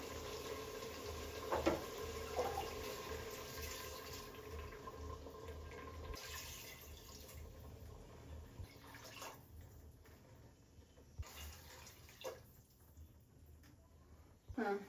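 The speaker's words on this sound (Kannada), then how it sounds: "ನಾಲ್ಕು ಲೋಟ ನೀರು ಹಾಕ್ಕೊತೀನಿ ನಾನು" Four glasses of water are poured into a cooking pot for a Sunday biryani, giving a soft, quiet splashing and trickling under faint background noise, with a few clinks along the way.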